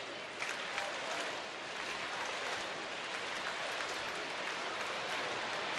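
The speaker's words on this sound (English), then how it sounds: "Crowd getting that Napoli chant going as Blackley comes set." Baseball stadium crowd at a Texas Rangers home game against Oakland, a dense, wide roar of massed voices chanting for catcher Mike Napoli, steady and enveloping throughout.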